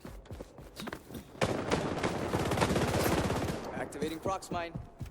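AK-47 fire in the video game XDefiant comes as a long, loud, rapid automatic burst after a few scattered shots. A voice speaks briefly around it.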